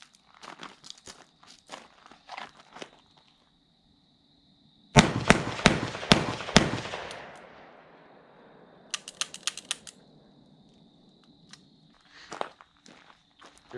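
Wax bullets fired at a shooting range: a sudden cluster of sharp, loud cracks with a decaying tail mid-way, surrounded by quieter clicks and handling noises before and after.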